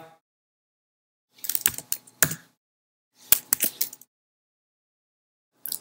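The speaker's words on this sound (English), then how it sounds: "And now type in the password." A password is typed on a computer keyboard in several quick clustered bursts of crisp key clicks, with short silent gaps between them, close and clear.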